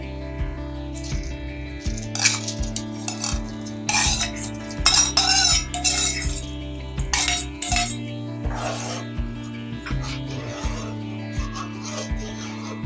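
A spoon stirs fried gobindobhog rice with bay leaf in a pan for payesh, making bursts of scraping and rustling against the metal over a constant low hum, with quiet gaps between strokes.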